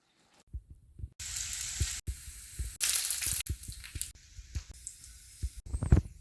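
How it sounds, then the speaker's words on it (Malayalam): Mustard seeds spluttering in hot coconut oil while tempering for Kerala aviyal, irregular bursts of crackling sizzle broken by short gaps and soft low thumps, fairly quiet and with no talking. "കടുക് താളിക്കാം"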